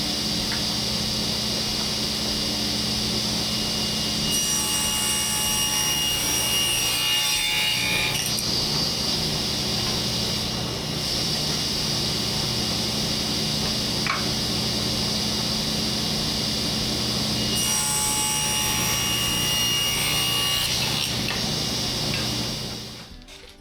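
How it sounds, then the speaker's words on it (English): Table saw ripping a wood board, a sustained loud whine and grinding cut running nearly the whole time, with brief dips and surges in pitch as the blade bites and clears the wood, then spinning down at the end. "Okay, we're going to rip this and then this side,"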